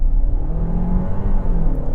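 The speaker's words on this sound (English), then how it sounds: "Revving the motor. Launch control program active. 4000 RPM and off we go." A car engine held at about 4000 RPM with launch control active before a standing start gives a loud, steady low rumble with a faint rising drone throughout.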